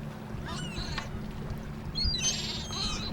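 A seagull at sea gives a few short, shrill calls over a steady low rumble of water and engine, the cries coming in two brief bursts.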